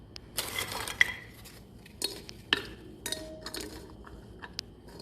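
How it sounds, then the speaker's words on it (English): Wafers are placed into the bottom of a bowl for cream cheese banana pudding, giving soft, close clinks and light taps against the dish at irregular moments, with no talking. "we're gonna start with layering a few wafers on the bottom"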